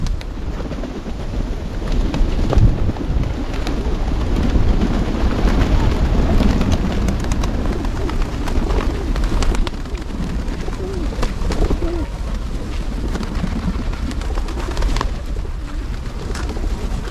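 Pigeons coo and flutter around people feeding them grain outside Zenkov Cathedral in Almaty, a dense, loud, continuous mix of wingbeats and cooing throughout.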